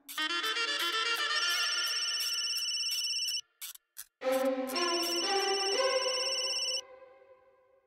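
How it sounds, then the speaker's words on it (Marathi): A telephone rings loudly with a bright electronic ringtone melody, one long phrase, a brief stuttering break, then the tune repeats before cutting off. "फोन घ्या."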